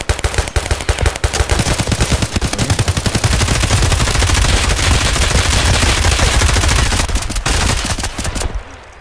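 Sustained automatic gunfire from a rifle emptying a 60-round magazine in Escape From Tarkov, a long rapid stream of loud close shots with brief stutters, ending abruptly near the close.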